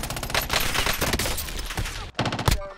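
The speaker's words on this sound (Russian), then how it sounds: "Мне в спину стреляет кто-то" Dense automatic gunfire from a submachine gun in the video game Call of Duty Warzone, loud and close with rapid overlapping bursts, a brief pause near the end, then more shots.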